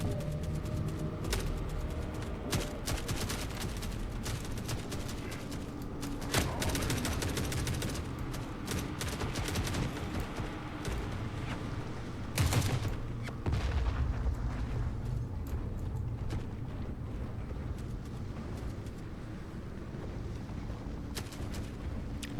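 Dense rolling battle din from The Forever Winter video game, grenade launcher blasts and bursts of gunfire overlapping continuously, with sharper booms breaking through a constant roar.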